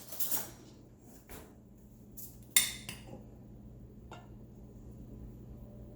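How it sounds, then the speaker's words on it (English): A metal spoon is fetched and handled among dishes in a home kitchen, giving a few scattered clinks and knocks, quiet and close with no talking. "let me get a spoon so I can get this out easier"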